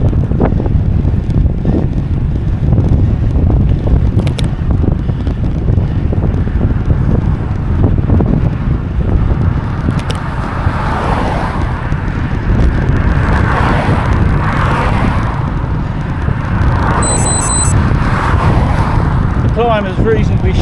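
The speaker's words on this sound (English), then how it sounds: "Quite a noticeable headwind today." Strong headwind buffets the microphone of a bicycle on the Isle of Man Gran Fondo course, a constant loud roaring rumble throughout with faint gear clicks near the end.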